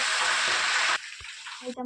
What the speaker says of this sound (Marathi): स्वच्छ गरम झालं की त्याची कडकडीत अशी फोडणी घ्यायची